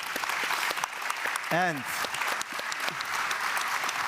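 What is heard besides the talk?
audience applause at a conference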